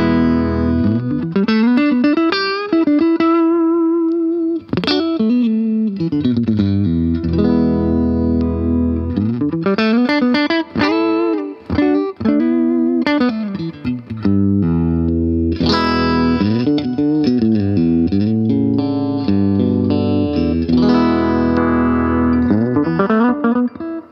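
A Sire S3 Stratocaster electric guitar played through a Marshall Plexi amp with a little Roland reverb, sounding loud and distorted with melodic bends and sustained notes across a continuous phrase, and no talking.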